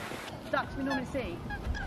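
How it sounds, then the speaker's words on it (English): Russian geese honk in short, scattered calls, some overlapping, against a steady background wash like distant surf or wind. "They're Russian geese."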